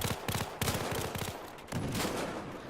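Rapid bursts of K10 submachine gun fire from the Battlefield Hardline beta on the Dust Bowl map, several quick rattling volleys in close succession, loud and near, with a short gap between strings of shots and no talk.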